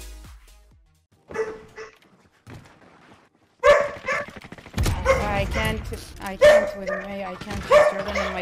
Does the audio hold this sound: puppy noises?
yes